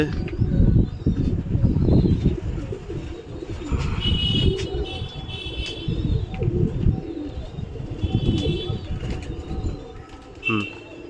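A flock of pigeons leaving their loft coos and flutters close by, with repeated throaty calls and bursts of flapping wings over a low, busy background.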